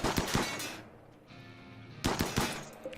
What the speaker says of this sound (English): Alright, so shoot the wall down.